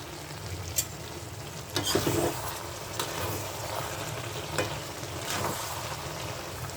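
Eel fish curry with tomato stirred in a pan, a soft continuous sizzle broken by a handful of sharp scraping stirs and clinks of the spoon, fairly quiet and close, with no talking.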